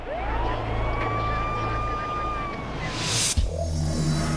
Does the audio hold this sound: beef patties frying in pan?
no